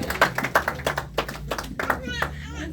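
A church congregation at a Sunday service claps in an irregular, fairly quick rhythm, several sharp claps close by, with voices speaking over the clapping.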